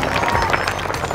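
A crowd at a comedy wedding scene applauds a newly matched couple, a brief, dense burst of clapping mixed with crowd murmur at close range.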